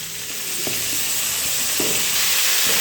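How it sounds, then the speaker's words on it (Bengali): Cauliflower florets dropping into hot oil left over from frying fish, a loud, close, continuous sizzling hiss with a few soft knocks of the spatula over its few seconds. "তুলে নেবার পর ওই তেলের মধ্যে ভেজে নেব আমি ফুলকপি"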